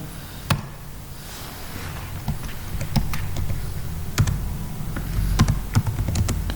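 Keystrokes on a computer keyboard while HTML text is typed, sparse irregular clicks with short bursts, close and fairly quiet over a steady low hum, with no talking.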